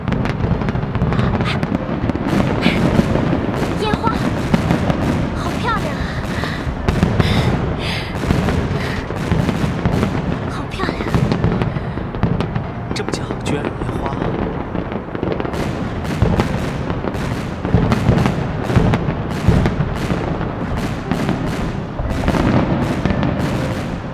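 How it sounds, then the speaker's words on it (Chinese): Fireworks being set off, a loud, dense, continuous barrage of cracking bangs and booms layered over each other without pause. "准备放烟花"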